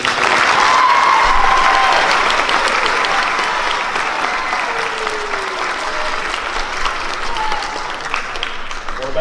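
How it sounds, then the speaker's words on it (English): A school audience at a middle school awards assembly claps steadily in a hall, a dense sustained wash of applause lasting throughout with faint voices and some cheering mixed in. "One more round of applause for all of our academic"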